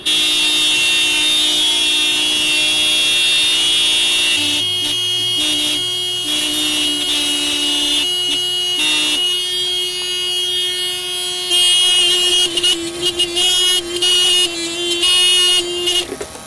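A stuck motorcycle horn blares in one continuous, steady tone for nearly the whole stretch, with road and engine noise underneath, then sputters into broken bursts near the end.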